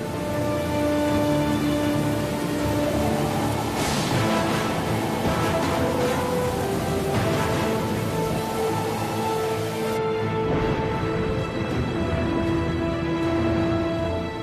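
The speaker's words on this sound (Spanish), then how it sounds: "de repente se desató una tormenta." A storm sound effect with rain pours down in a dense, steady hiss throughout, joined by low rumbling swells, with tonal music playing over it.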